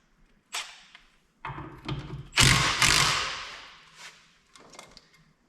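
A wrench works at a bracket on a Detroit 60 Series diesel engine, giving several close metallic clanks, thuds and scrapes, with one louder grinding burst in the middle.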